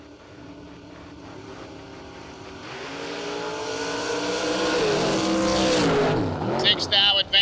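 Drag race cars launching down the strip, the Boss Lady Camaro among them, their engines building from a low rumble to a loud, rising roar that peaks and then drops away sharply, with an announcer's voice running over the noise.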